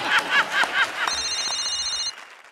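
A phone rings with a warbling electronic trill repeated four times, then a steady high electronic tone holds briefly before cutting off.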